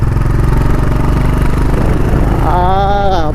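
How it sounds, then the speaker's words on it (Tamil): A 2025 Honda Hness CB350 (BS7, OBD2B, E20) is ridden, its engine giving a loud, close, steady thumping drone, with a brief rising whine near the end. "அப்படியே கேட்க இனிமையாக இருக்குது இந்த சவுண்டு."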